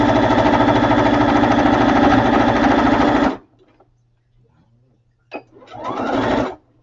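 A sewing machine back stitching hums loudly and steadily for about three seconds, stops, then starts again with a short rising burst after a faint click.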